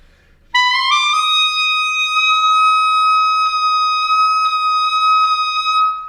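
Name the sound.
clarinet high F played flat, then with fork fingering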